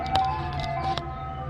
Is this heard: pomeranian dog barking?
no